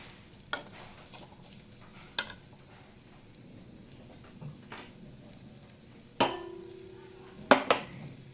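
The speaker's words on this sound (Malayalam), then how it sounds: "ഈ കറിവേപ്പില ഇട്ടിട്ട് നമുക്ക് ഒന്ന് വഴറ്റി കൊടുക്കാം" Curry leaves sautéing in hot oil for a beetroot stir-fry give a faint, low sizzle, broken by scattered spatula scrapes and sharp clicks against the pan.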